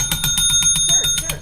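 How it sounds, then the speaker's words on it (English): Bell rung by a customer at a service counter, a rapid series of about ten bright metallic rings close by, like a bicycle bell, briefly. "Did you bring your own bell?"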